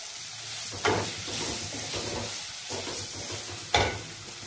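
Sliced onions sizzle in a hot pan with ground chilli and Kashmiri chilli for a masala dosa potato filling, a steady close frying hiss broken by two louder stirring scrapes.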